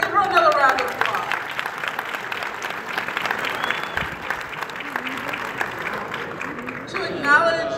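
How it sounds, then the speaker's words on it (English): Applause from a crowd at a council member's inaugural ceremony, a steady mass of clapping mixed with voices, near and fairly loud throughout. "let's give her another round of applause"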